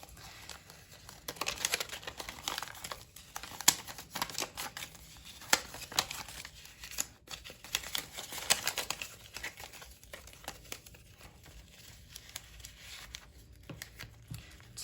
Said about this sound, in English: Maybe I should fold this differently.